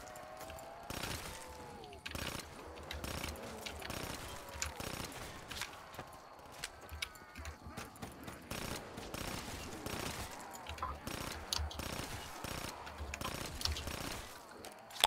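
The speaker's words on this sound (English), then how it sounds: "I don't know why I'm shooting." Rapid gunfire in a Black Ops 3 custom zombies map set in a cabin: rattling bursts of shots repeat throughout, loud and close, with players chatting intermittently and faint footsteps in between.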